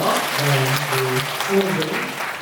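Audience applause at a winter education camp lecture, steady dense clapping from a crowd throughout, with voices mixed in underneath.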